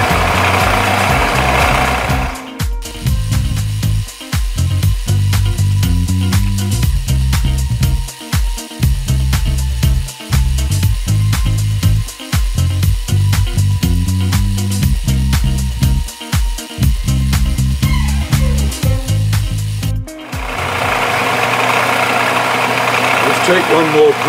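A milling machine drills a deep hole nearly 3 inches into a workpiece, a steady mechanical drone with a rhythmic whirring pattern and squeaking from the drill, loud and close, with brief pauses at the start and end.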